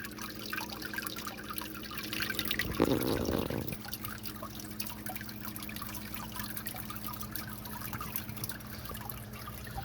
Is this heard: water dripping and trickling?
yes